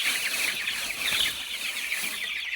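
Chickens on a small poultry farm clucking in a steady, overlapping chorus, with bright chattering calls close by and no talk.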